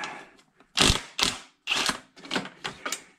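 Bursts of metallic ratcheting come from a wrench loosening a bracket bolt on a Jeep during an oil cooler housing job, with five or six short quick runs of clicks separated by pauses, close and loud.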